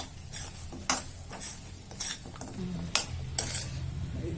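Fried cabbage being stirred into manchurian sauce in a pan, a spoon scraping and clinking against the metal in several sharp strokes with a soft sizzle beneath, close and fairly quiet.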